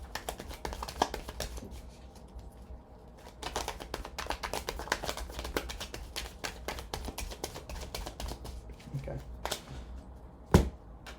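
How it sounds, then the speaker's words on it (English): Tarot cards are shuffled close up, a long run of quick, crisp flicks and soft taps, fairly quiet, with one sharper snap near the end. "I'm going to shuffle it 3 more times"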